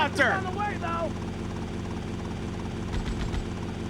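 A helicopter in Grand Theft Auto Vice City drones with a steady low rotor thrum, loud and continuous, while game sound effects and brief voices surface over it.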